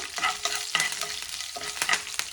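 Curry leaves and chana and urad dal sizzle and crackle in hot tempering oil for an idli recipe, with dense frying noise and sharp pops near the pan and a spoon stirring.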